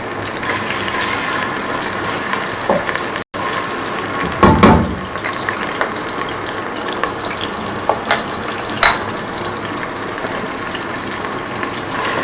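Ginger garlic paste frying in hot oil, a continuous close sizzle broken by occasional clatters and scrapes of stirring, with no voices.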